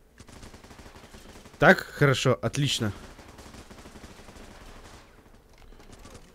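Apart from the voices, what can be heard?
gunfire in the video game Running With Rifles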